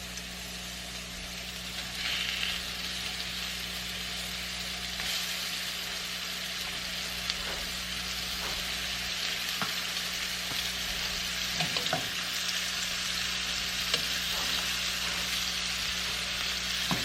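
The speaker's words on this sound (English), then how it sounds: "In this skillet, I've just been heating some olive oil. It's just a shallow fry." Food shallow frying in olive oil in a skillet, a continuous loud sizzle running steadily throughout with a few faint clinks, no voices.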